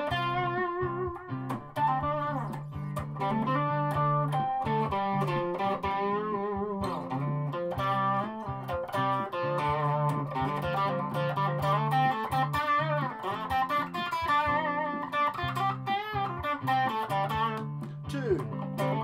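Squier Affinity Stratocaster electric guitar from 1996, bridge pickup through a Guv'nor pedal set for slight distortion, playing sustained chords and melodic lines steadily and loudly for the full stretch with no talking.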